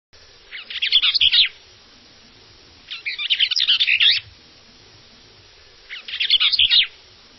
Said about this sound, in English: Do they really think we'll be interested in the sounds of their earthly birds?